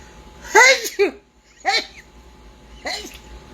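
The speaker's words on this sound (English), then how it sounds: "I feel like I have to sneeze" A sharp, voiced burst is followed by two shorter similar bursts with pauses between them, sounding like a run of close sneezes or sneeze-like noises.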